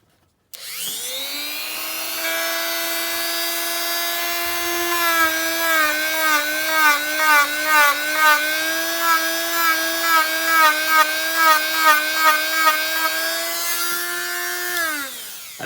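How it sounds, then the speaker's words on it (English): A Dremel rotary tool whines steadily at high pitch while grinding the outer coating off an aluminum part on a Typhon 3S RC car, its tone wavering and pulsing rhythmically as it bites the metal, loud and close for about fifteen seconds. "I'm just going to show you real quick what I've been doing with the Dremel."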